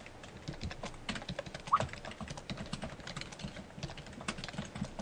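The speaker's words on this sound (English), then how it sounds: "Tim is typing me things." Rapid, uneven clatter of keys on a computer keyboard, continuous throughout with small bursts of faster strokes, close and moderately loud with no talking over it.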